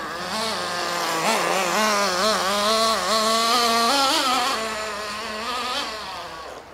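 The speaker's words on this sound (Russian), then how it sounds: "профессионалы настраивают нитродвижки по звуку. То есть слышат, как двигатель работает" Nitro engine of a Traxxas Slash 2WD radio-controlled car screaming at high pitch, its tone wavering up and down through repeated throttle blips, close and loud with no talk.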